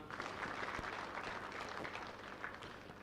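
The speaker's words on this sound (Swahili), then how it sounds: "Naomba tumpigie makofi tena" Audience applause at a business forum closing ceremony, steady dense clapping from a crowd, faint and distant throughout the three seconds.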